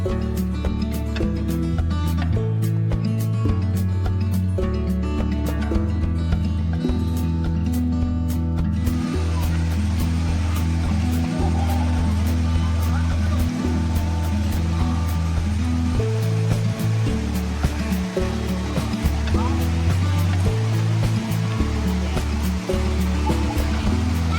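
Rushing, splashing water from level 4 of Erawan Waterfall in Kanchanaburi, Thailand, a steady broadband roar close by that fills the whole span with no breaks.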